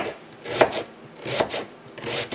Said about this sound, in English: So we'll just chop it up. I like to slice it small.